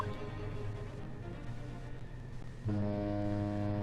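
A ship's horn in a video game (The Great Ace Attorney Chronicles) sounds before the ship sets sail: a deep, droning foghorn-like blast over background ambience, swelling louder partway through.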